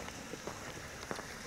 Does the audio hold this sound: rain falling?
yes